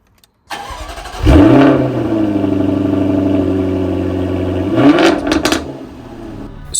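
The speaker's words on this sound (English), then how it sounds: "Check this engine out." A Jaguar sports car engine starts up with a sharp crank and catch, settles into a loud, steady idle close by, then gives a short rev before easing back down.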